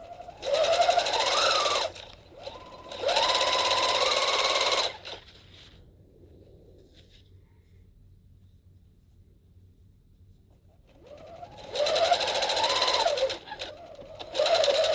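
A sewing machine stitches a shirt in two long bursts of running near and loud, pauses in near quiet, then starts stitching again toward the end.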